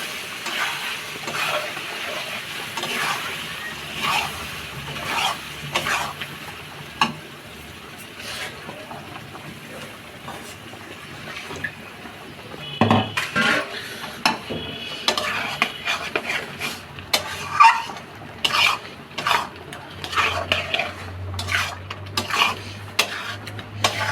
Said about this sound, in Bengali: এবার পালং শাকগুলো দিয়ে দেবো